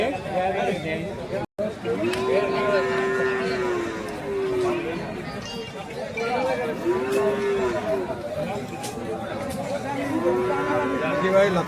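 A cow moos loudly three times at a crowded cattle market before Eid al-Adha, long drawn-out lows spaced a few seconds apart, over a busy crowd of people talking.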